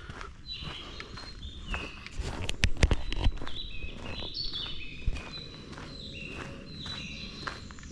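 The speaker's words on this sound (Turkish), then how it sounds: "Duyuyorsunuz değil mi? Kuş seslerini." Birds sing in a forest along a 5 km walking trail: faint, scattered chirps repeat throughout while footsteps crunch steadily and more loudly up close.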